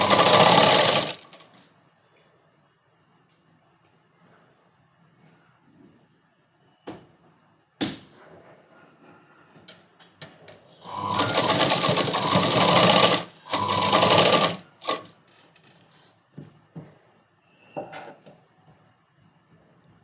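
A sewing machine stitches folded fabric for a kids' night dress in short bursts, one brief run at the start and two longer runs midway, with quiet pauses and small handling clicks between.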